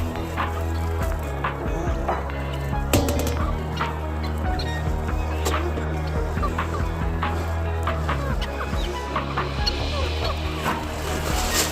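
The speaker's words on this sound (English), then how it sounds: "I can release the rest of the birds." Chickens and other fowl are let out in the morning, and a busy flock clucks and calls nearby in a steady, overlapping chorus that carries on throughout.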